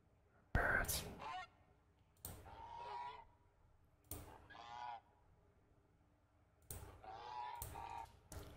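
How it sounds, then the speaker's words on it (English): Honking, goose-like bird calls placed in the Age of Empires II scenario editor, arriving in four or five separate bursts of a second or so each, moderately loud over a faint background hum. "Oh, we can add birds."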